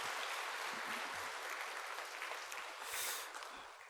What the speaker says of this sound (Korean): 다 같이 한 번 더 축복의 박수하겠습니다